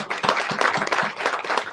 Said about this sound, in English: all the people that put this together, you guys deserve a round of applause